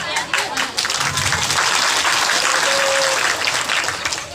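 An audience at a public speech claps loudly in dense, continuous applause that holds steady for several seconds before easing slightly.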